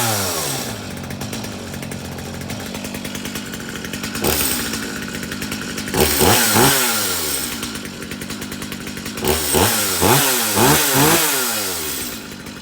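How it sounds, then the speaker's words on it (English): A Stihl MS 250 C chainsaw starts up and runs close by, its engine idling roughly and then revving loudly several times in quick bursts, with no speech. "this MS250C started up without any problem"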